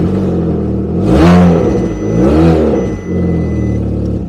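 A Seat Ibiza 1.4 engine with a flexible exhaust turning over and revving twice in quick succession, loud and close, then settling to a rough idle.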